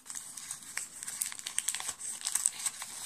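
Glittery gift wrapping paper crinkles and rustles as a present is unwrapped up close, a continuous run of crisp crackles and soft tearing with no talking.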